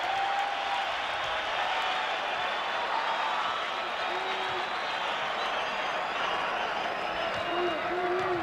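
A basketball crowd cheers and applauds for the Broncos at a 1993 West Region first-round tournament game, Arizona versus Santa Clara, a dense, loud, continuous roar filling the arena with no break.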